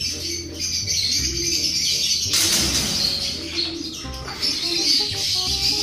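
Caged birds at a bird show, including slaty and opal varieties, chirp and tweet continuously in a lively chorus, with occasional wing flapping and a brief burst of rustling noise partway through.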